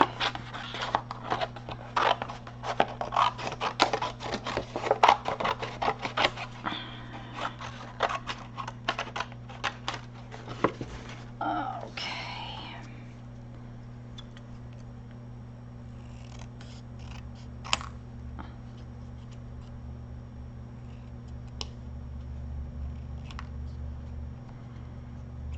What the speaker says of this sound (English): I'm just going to cut little banners out of them